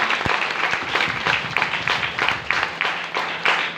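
Loud, sustained applause from an audience at a seminar-style gathering, dense clapping with rhythmic surges running the whole length, no speech over it.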